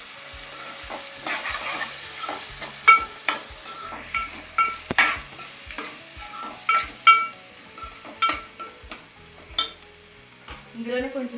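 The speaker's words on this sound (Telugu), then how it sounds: "ఆనియన్స్ పచ్చిమిర్చి ఇవి 1-2 నిమిషాలు ఫ్రై అయ్యాక, ఎక్కువ ఫ్రై చేయకుండా ములంకాయలు కూడా అందులోనే వేసుకుంటే మంచిగా ఫ్రై అవుతాయి." Onions, green chilies and eggplant frying together in a pan, a bubbling sizzle under repeated loud scrapes and knocks of a spatula against the pan in an uneven rhythm, close and alone without talk.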